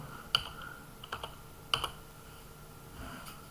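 Python code being typed on a computer keyboard, sparse close key clicks in short bursts with pauses between, fairly quiet in a still room.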